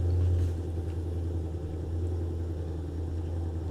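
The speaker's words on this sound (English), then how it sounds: "This sounds like a motorcycle." A motorcycle engine runs outside, a low steady rumble heard from nearby indoors, with a slightly louder swell at the start then an even drone.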